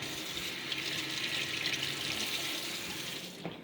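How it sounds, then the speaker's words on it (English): A sink tap runs steadily while hands are washed under it, giving a constant close splashing hiss that cuts off near the end. "Let me wash my hands and ignore how, oh man, my soap died."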